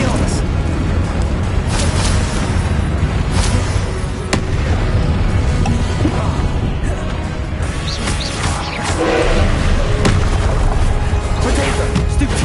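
Spells burst and crash in the video game Hogwarts Legacy, loud popping blasts and booms scattered over dense, continuous combat noise, with a voice calling out over the action.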